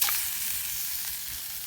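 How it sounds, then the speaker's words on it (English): Lamb shank browning in a hot pan gives a steady, close sizzle with a broad hiss that holds even throughout, and no one speaks. "let's get this lamb shank browned up."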